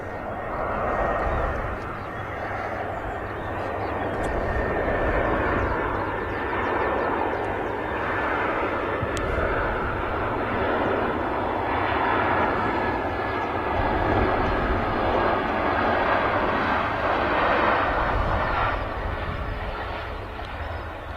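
A Brussels Airlines airliner in its old livery arrives at Manchester Airport, its steady engine roar sustained and fairly close for the whole stretch, with a faint voice talking underneath.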